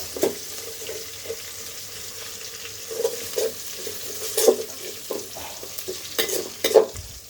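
Garlic and other ingredients for mango pickle fry in a pan while being stirred, a quiet sizzle broken by scattered scrapes and clinks of the utensil, with no one talking.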